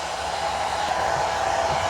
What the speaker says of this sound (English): it sounds like a hair dryer that we use